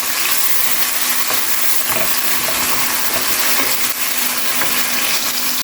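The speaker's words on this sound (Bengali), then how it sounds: "পেঁয়াজটা আমি ব্রাউন কালার করে ভেজে নেব।" Two cups of chopped onion with garam masala frying in oil until brown, a steady loud sizzle that carries on evenly throughout, with no voices.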